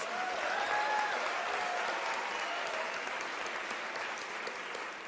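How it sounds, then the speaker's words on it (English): An audience at a university graduation ceremony gives a dense, steady round of applause that fades slightly toward the end, heard from some distance over a faint hum. "So let us give them a round of applause."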